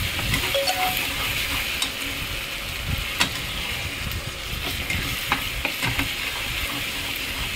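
Ginger-garlic masala fries in hot oil for a brinjal curry, giving a steady, close sizzle with scattered scraping stirs and soft utensil clicks throughout, and no talking.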